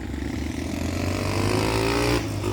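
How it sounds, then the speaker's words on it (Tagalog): Motorcycles stream across the Barosong hanging bridge in Cordova, a continuous loud engine drone with one rising pass near the end, close and steady without talk. "daming dumadaan nun, daming motor oh"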